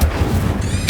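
Incendio fire spell from the video game Hogwarts Legacy, a short, loud booming burst with a rumbling low end, alone and under a second long.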